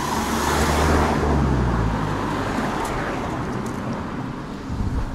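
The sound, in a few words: loud old station wagon driving past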